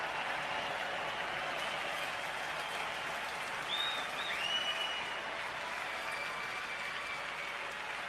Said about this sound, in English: Crowd making noise.